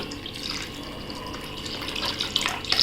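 Water pours and splashes off soaked rice in a vessel, a steady trickling flow that grows louder and more splashy toward the end.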